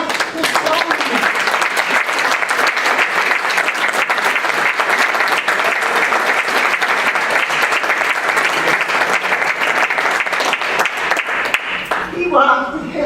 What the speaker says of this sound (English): And would like to have all of you give a round of applause to Percy Davis.